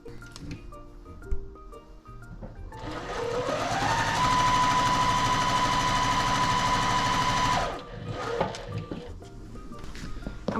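A sewing machine stitches quilt fabric pieces together in a continuous, close, whirring run of several seconds, ramping up and then stopping, with quieter handling clicks before and after.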